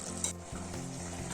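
Chicken stew cooked in coconut milk boils in a pot with a close, continuous bubbling sizzle.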